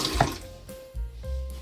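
A sink tap runs while an alum block and a face are rinsed after a shave, giving a close, brief splashing and trickling of water.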